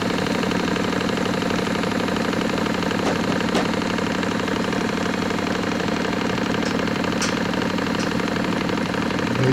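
A Stirling demonstration engine runs with a steady, continuous mechanical hum and fast regular pulsing, constant in loudness throughout with no talk.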